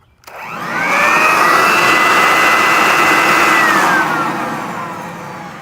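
A WORX Trivac electric leaf blower spins up quickly and roars at full power, loud and steady with a high whining tone, then begins to wind down near the end.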